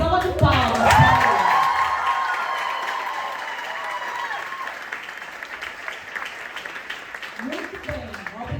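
A congregation at a church gathering gives a round of applause, starting with loud clapping, shouts and cheering that slowly fade into lighter scattered clapping, with voices rising again at the end.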